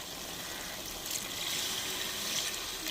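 Tamarind water poured into a pan of fish curry masala, a steady soft liquid trickle that swells slightly midway, close and alone with no talk.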